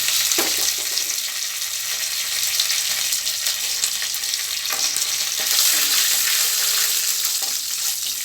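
Curry leaves and a handful of roasted peanuts fry in hot oil in a pan for curry leaf rice, giving a loud, steady sizzle with occasional stirring scrapes and no talking.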